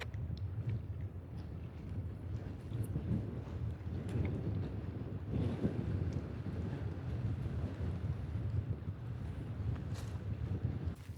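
Strong cold wind roars steadily across a snowy Romanian mountainside about 1192 metres up, a continuous low buffeting rumble hitting the microphone with gusty swells and no speech.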